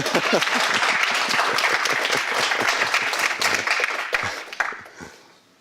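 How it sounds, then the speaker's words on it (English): An audience claps after a talk, dense and fairly loud applause that holds steady for several seconds and then thins out and fades, with a few last scattered claps at the end. "yes, you can clap"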